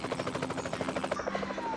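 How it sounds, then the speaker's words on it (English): A police helicopter flies overhead, its rotor blades chopping in a fast, even rhythm, loud and close throughout, then thinning slightly toward the end. "Even with the chopper overhead"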